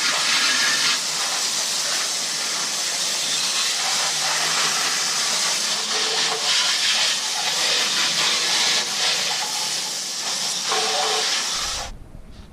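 A water hose sprays hard into a car's engine bay, a steady broad hiss of rinsing water that runs loud and unbroken for several seconds, then cuts off abruptly at the end.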